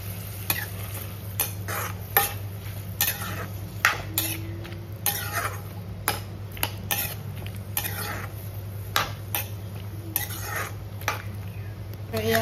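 Dry fish and kunduli being stirred and fried in a pan with salt, a utensil scraping and clinking in repeated strokes over a faint steady sizzle, close and fairly quiet.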